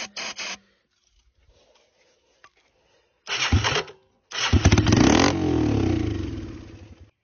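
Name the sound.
three-wheeler engine firing up and popping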